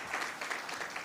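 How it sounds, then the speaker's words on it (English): A brief, faint patter of clapping from a symposium audience, giving a round of applause to Mr. Cornwall, lasting only about a second at a distance. "Another round of applause to Mr. Cornwall"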